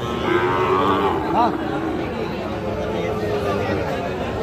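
A young bull calf lowing loudly and close at a busy cattle market, one drawn-out moo early on, over a steady crowd murmur and nearby talking.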